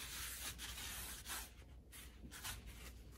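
Cloth wiping excess oil from a hot, smoking cast iron skillet during stovetop seasoning, a steady close rubbing scrape in repeated strokes with no talk.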